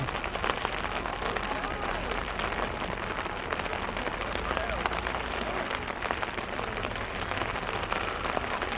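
Rain pattering steadily on an umbrella held over a camera at an outdoor high school track meet in Saranac Lake, a dense, close hiss that stays level throughout.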